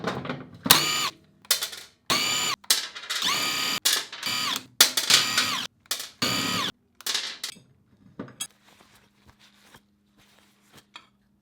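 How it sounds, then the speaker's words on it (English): Metallic ratcheting and wrench clicks on a KTM 701 as the old sprocket comes off and a new one goes on, a series of loud close bursts separated by brief pauses, fading to faint taps at the end. "Get the old sprocket off, get the new sprocket on."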